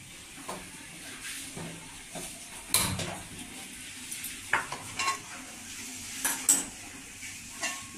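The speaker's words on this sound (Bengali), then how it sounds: "এবার আমি গ্যাস অন করছি, কড়াই বসাচ্ছি গ্যাসে।" A wok set onto a gas stove, heard as several separate clanks and metallic knocks of cookware against the burner over a faint steady hiss, fairly quiet and with no talk.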